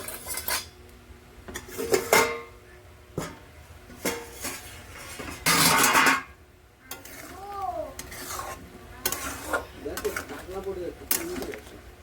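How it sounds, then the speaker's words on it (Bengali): A lid comes off a pot of taro stolons simmering over medium heat, with a brief loud rush of sizzle and steam among clinking metal pot and utensil sounds. A person talks intermittently nearby. "ব্যাস, এবার ঢাকাটা খুলে নেব।"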